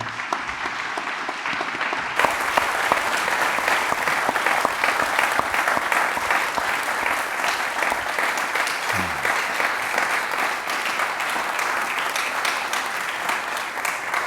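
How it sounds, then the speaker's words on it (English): Audience applause at a book launch for a low-carbon economy book, a sustained, dense clapping from a large crowd that starts abruptly and continues steadily at full strength. "I feel that applause."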